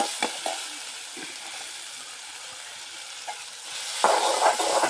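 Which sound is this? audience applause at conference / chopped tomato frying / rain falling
chopped tomato frying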